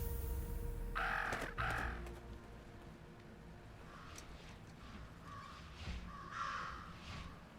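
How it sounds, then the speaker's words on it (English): Crows cawing in the video game Jenny LeClue, a pair of harsh caws early on, then several more scattered calls over a steady game backdrop, moderately close and without speech. "Talk about a murder of crows."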